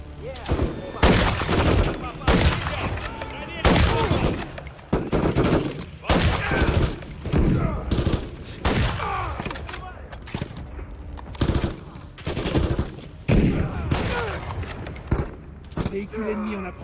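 Gunfire rattles without letup in Call of Duty Modern Warfare 3, with dense automatic bursts and sharp single shots packed close together for the whole stretch while voices talk over the battle.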